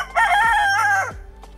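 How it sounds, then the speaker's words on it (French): A rooster perched in a tree crows once, loud and close, a single drawn-out cock-a-doodle-doo about a second long that ends in a short tail, set against a quiet background. "Le coq perché sur son arbre, appelant aux autres individus coqs de la communauté pour prouver sa dominance."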